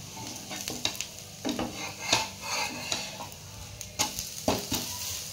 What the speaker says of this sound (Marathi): आता आपण हे डोसा पलटी मारून घ्यायचा आहे।